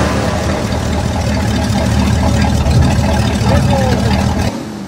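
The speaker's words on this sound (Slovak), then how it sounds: "Pozornosť pútali nielen nablískanými karosériami, ale niektoré tiež zvukom svojho motora." Vintage cars and motorcycles at a spring motor swap meet run their engines, a steady loud mechanical rumble with crowd noise and voices mixed in throughout, cutting off abruptly near the end.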